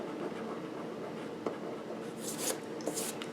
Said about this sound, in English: Let's erase that line.